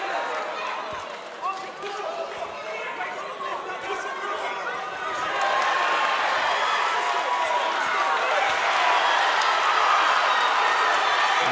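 Boxing arena crowd at the Basi v Dragone fight, a dense roar of cheering and chatter that swells louder and more frantic halfway through, with commentators talking over it.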